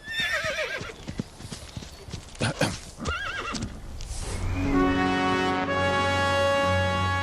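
A horse whinnies and neighs loudly while hooves clip-clop in a quick run of hard knocks, followed by a long sustained tonal sound that closes the passage.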